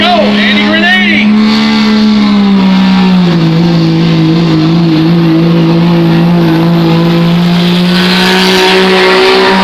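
Pulling truck engine revving hard at a Troy, Missouri truck pull, a loud sustained roar with rising and falling pitch that holds steady through the run, with a crowd and announcer voices mixed in.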